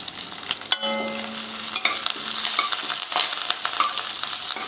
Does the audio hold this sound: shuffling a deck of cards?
no